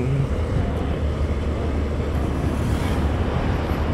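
Sea waves wash steadily along a roadside shore near Matnog and Sorsogon, a broad, even surf roar mixed with heavy wind buffeting on the microphone, heard from a moving scooter with no talk over it.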